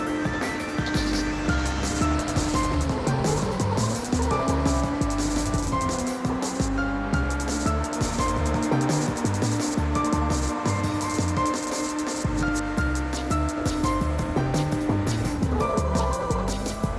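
Racing car engine in the video game Ridge Racer Type 4, a loud continuous whine that rises and falls with gear shifts and throttle changes, layered with game music and tire noise for the whole stretch.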